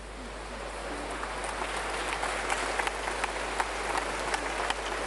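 Applause at a state funeral, a large crowd clapping steadily in a continuous dense patter, heard from a distance in a reverberant space without talk.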